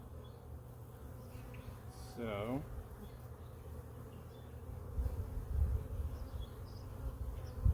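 Honey bees buzz in a steady, continuous drone while a hive split is being worked, with a brief voice breaking in near the start and the hum swelling a little toward the end.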